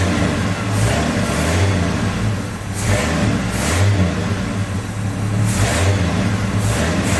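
A budget turbocharged 250 engine revs repeatedly as the throttle is flipped, loud and close, with rhythmic surges of rising roar over a steady rough idle.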